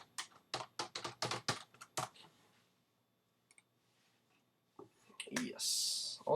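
Computer keyboard typing in quick clattering bursts for about two seconds, then a pause with faint clicks before a few more keystrokes and a hiss at the end; close and fairly quiet, with no talk over it.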